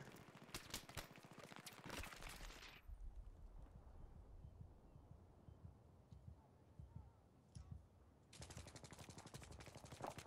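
Gunfire in a Battlefield 3 Capture the Flag match: rapid automatic bursts at the start and again at the end, with quieter scattered shots and game noise between, fairly faint overall.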